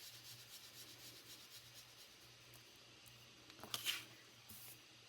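Pink ink blended onto a sheet of paper for a foiled birthday card: faint, steady soft scrubbing with a short louder rustle near the end, and no voices.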